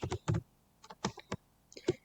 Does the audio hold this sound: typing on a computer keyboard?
yes